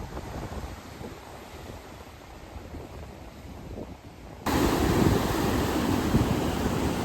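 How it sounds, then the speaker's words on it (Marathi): Rough sea waves surging onto Devgad beach on the Konkan coast, a continuous broadband roar with wind buffeting the microphone, growing noticeably louder and closer midway through. "पाण्याचा फ्लो तुम्ही बघू शकता किती मोठा झालाय."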